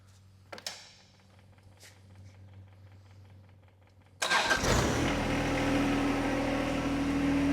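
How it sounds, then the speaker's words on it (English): A John Deere 25 hp compact tractor is cranked and its diesel engine catches, settling into a loud steady idle after a few faint clicks and quiet moments. "now we're ready to start the tractor and install the backhoe"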